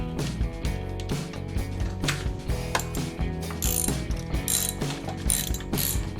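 A hand wrench ratchets in quick, steady clicking bursts while tightening the bolts on a Rough Country LED grille light mounting bracket, close and continuous, with no speech.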